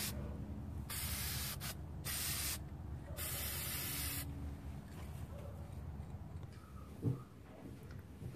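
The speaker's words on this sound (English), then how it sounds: "And then we're just going to lightly spray them." Metallic gold Rust-Oleum spray paint hisses from a can in four short bursts, applied lightly to miniature dollhouse chandelier parts, close and clear with brief quiet gaps between sprays.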